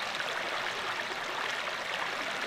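Water trickles off a leaf in a thin stream, like a small waterfall, outdoors while refilling a dirty bottle for a Sawyer water filter. It is a steady, close hiss of running water with no talk.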